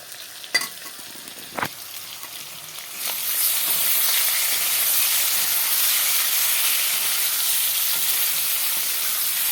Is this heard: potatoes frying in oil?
yes